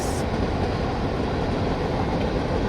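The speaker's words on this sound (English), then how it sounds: "Just thought this was sort of cool. 2 trains at once." Two freight trains pass at once beside the Erie Canal, a loud, continuous rumbling roar of rolling wagons steady throughout, with no talk.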